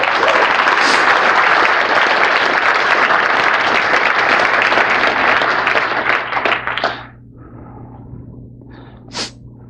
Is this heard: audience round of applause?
yes